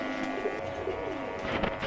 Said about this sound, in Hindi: ये पिछले घरों में बैठे हुए कबूतर हैं।